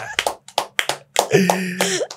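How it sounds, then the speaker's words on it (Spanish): A single person claps a few uneven, sharp times in a quiet podcast studio, with coughs and then speech following the thin applause. "Se escucha pobre el aplauso porque estamos solos"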